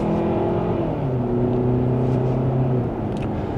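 Steady, loud engine hum from a 2026 Kia Sportage X PRO accelerating in sport mode from second gear, the tone climbing and stepping as it gains speed, with no talk over it.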